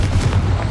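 Loud, close booming blast of the Confringo spell in Hogwarts Legacy, a single deep rumbling explosion lasting under a second.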